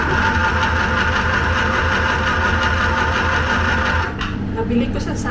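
A beginner-level home sewing machine hums steadily at close range while scrunchies are stitched, the motor drone running almost continuously before a brief dip near the end, with a voice talking over it.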